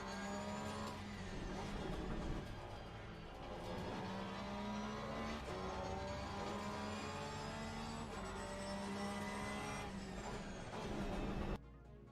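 Race car engines in Assetto Corsa Competizione on a next-generation console, a sustained high-revving engine roar with rising pitch sweeps and gear changes, loud and continuous with no talk.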